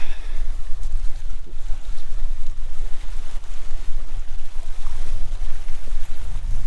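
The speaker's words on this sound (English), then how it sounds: "you can definitely hear the water, I'm sure, with the mic." Continuous lake water sloshing and lapping close to the microphone at a volcanic twin lake near Ruhengeri, Rwanda, mixed with gusty wind buffeting, steady throughout with no voices.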